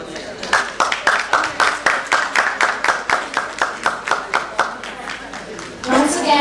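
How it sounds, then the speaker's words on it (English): An audience at a medical conference claps in a slow, even rhythm of about a dozen and a half sharp beats, fairly close and loud, ending in a brief swell of noise. "Let's give a big round of applause."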